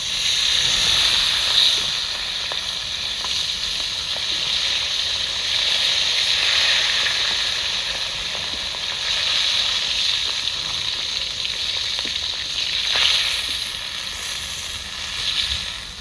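Fish fries in hot oil in a village kitchen, a steady broad hiss and sizzle that holds evenly throughout, with faint crackles now and then.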